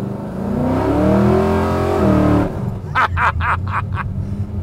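A 1970 Chevrolet Chevelle restomod with a 540 engine accelerates at half throttle, a loud, rising engine roar with harmonic sweeps that drops off near the end, followed by a few sharp close bursts.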